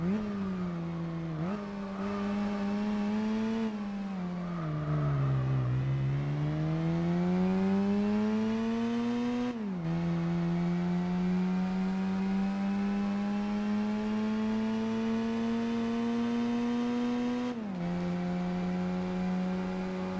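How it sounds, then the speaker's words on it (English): A Nissan GT-R engine drones behind the player's car in Gran Turismo 4, a loud continuous tone that rises and falls with shifts and throttle changes over twenty seconds, with no talk. "I can hear, I think it's the GTR behind me?"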